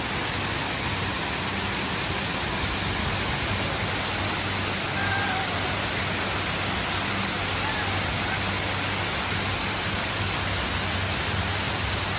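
A waterfall close to a hillside cafe in Chiang Rai roars as dense, steady broadband rushing water, loud and constant for the whole stretch with no break.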